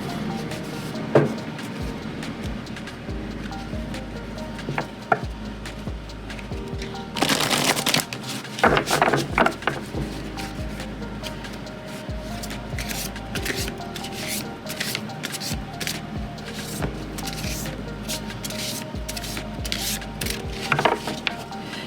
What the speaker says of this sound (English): So just shuffling the cards,